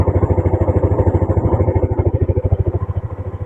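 A 2005 Yamaha Jupiter Z CW motorcycle engine runs close by, a loud, steady, rapid thumping pulse with mechanical clatter that gradually softens.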